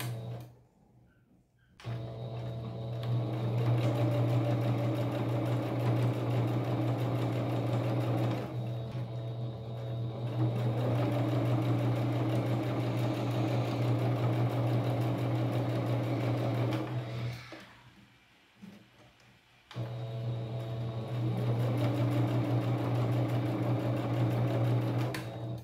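A sewing machine stitches a fabric seam for a patchwork rug made from scrap fabric, a steady close whirring hum in three long runs separated by brief stops.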